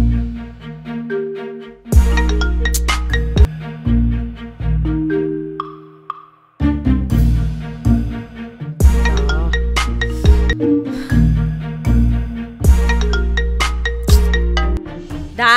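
A phone ringtone plays a bright, repeating melodic tune in loud bursts, stopping briefly and starting again as the call comes back over and over, with no talking.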